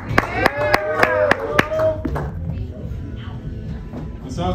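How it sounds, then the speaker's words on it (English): A comedy club crowd at a speakeasy show claps in rhythm for a stand-up comedian, sharp, evenly spaced claps rising above loud cheering voices, then the claps stop and talk and crowd noise continue. "Y'all already clapping."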